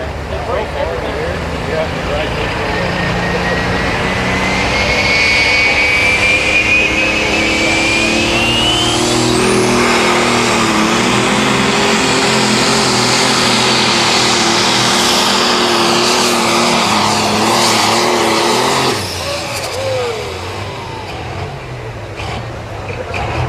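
A John Deere limited pro stock pulling tractor, driven by Larry Farr, drags a weight sled at a Mound City, Missouri tractor pull. Its engine roars loud and sustained, with rising pitch and a crowd and announcer underneath.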